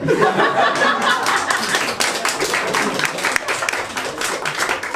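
A comedy club audience claps continuously with scattered laughter mixed in, a busy, close crowd sound filling the whole stretch.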